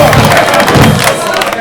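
A live audience at a Congolese music event cheers and applauds in a loud, continuous crowd roar, dense shouting and clapping filling the whole moment without pause.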